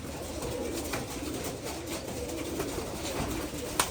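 Giribaz high-flyer pigeons cooing softly at a pigeon farm against a steady outdoor background, with a constant murmur and scattered flutters.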